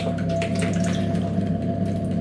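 Water runs steadily from a washing machine tap that has had its spindle removed, a continuous close trickle with no breaks.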